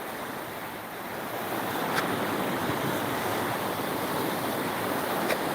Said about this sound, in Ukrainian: Цих водяних потоків.